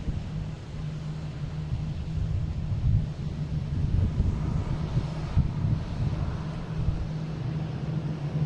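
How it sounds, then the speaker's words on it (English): An American Airlines Embraer E175 arrives at Boston Logan airport, a steady low engine rumble under gusty wind noise, distant and moderately loud throughout. "Next coming in is American Airlines coming in from Traverse City."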